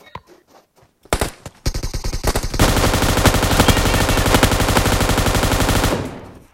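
Gunfire in a shooter video game starts with a few scattered shots, then turns into loud, sustained rapid automatic bursts, close and heavy, before cutting off abruptly.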